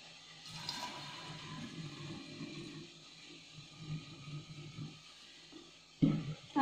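Hot water running into a glass jam bottle to warm it before filling with rhubarb-strawberry jam, a steady splashing flow close by with some clinks and a louder knock near the end.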